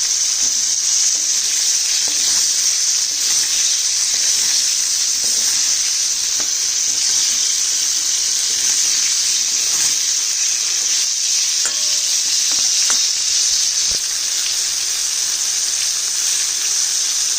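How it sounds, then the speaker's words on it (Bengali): Pumpkin pieces fry in a pan with a steady, loud sizzle that runs the whole time, broken by scattered light scrapes and clinks of a spatula stirring them, with no voices. "এবারে আমি কুমড়োটা ঢেলে দিলাম।"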